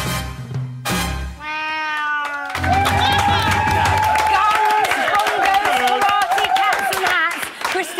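A domestic cat meows a few times in quick succession at the start, then loud music with a cheering studio crowd from a live TV talent show takes over.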